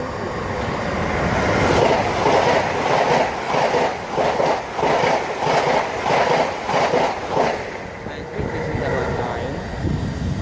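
An up High Speed Train passes at Southall on the Great Western Main Line: a loud rush with a regular clickety-clack of wheels over rail joints as the coaches go by, fading at the end, with voices talking faintly.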